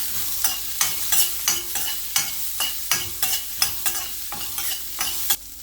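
Onion, urad dal and dry red chilli frying, a soft sizzle punctuated by regular scraping stirring strokes about twice a second, close up and without voices.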